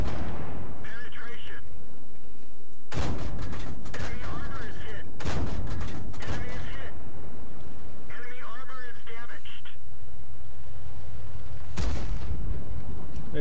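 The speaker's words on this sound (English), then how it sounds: "Can you still shoot, Aimless?" Video game gunfire crackles in loud, dense bursts of rapid shots separated by brief pauses, close and dominant, with players' voices talking over the shooting.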